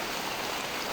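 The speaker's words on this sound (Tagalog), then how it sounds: "Malakas ang ulan." A heavy downpour falls at night in Barangay Katuogan, Bontoc, Southern Leyte, a steady, close, even hiss of rain with no pauses and no voices.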